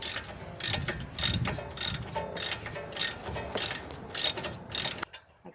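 Ratchet wrench spinning a 21 mm nut off the CV shaft of a 2017 Dodge 1500, a rapid run of clicking pawl bursts in steady rhythm, close and fairly loud, stopping abruptly at the end with no talk.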